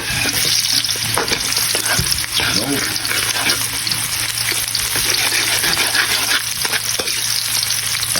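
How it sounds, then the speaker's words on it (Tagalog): Garlic and onion sautéing in a pan for a snakehead fish pochero, a steady, dense sizzle with soft stirring scrapes that stays close and even throughout. "igisa na natin yung bawang, sibuyas"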